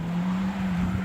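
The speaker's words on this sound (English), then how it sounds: "There's a car coming that my husband is very fully aware of." Car moving along a snow-covered road during a Georgia snowstorm, a steady low engine hum that stays close and even for a brief moment, with no voices.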